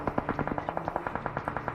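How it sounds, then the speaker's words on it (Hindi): Rapid automatic gunfire in PUBG Mobile coming from behind a building near the police station, a steady rattle of roughly a dozen evenly spaced shots, moderately loud and without talk. "और ये वाली जगह से ही फायर आया था, जस्ट इस बिल्डिंग के पीछे से।"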